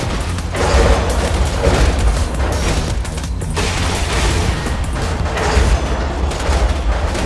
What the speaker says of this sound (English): It fires 2 shots automatically.